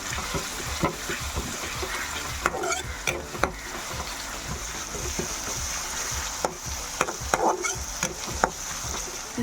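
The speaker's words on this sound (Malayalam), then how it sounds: "കുറച്ച് കറിവേപ്പിലയും ചേർക്കാം. നന്നായിട്ടൊന്ന് വഴറ്റിയെടുക്കണം." Steady sizzling in a hot pan as curry leaves are sautéed, with repeated stirring clatter and scraping strokes, close up, no talking.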